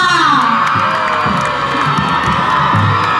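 A large outdoor crowd at a university sports-day parade cheers and shouts continuously and loudly, with children's voices and whoops in a sustained roar.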